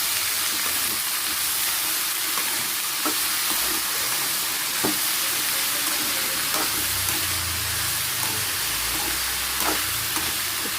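Eggplant fry sizzles steadily in a pan with occasional soft scrapes of stirring, a constant close hiss with no voices.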